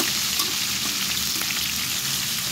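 Pakbet vegetables with freshly added tomatoes frying in a pan, a dense, steady sizzle with faint crackles close up, continuous and without talk.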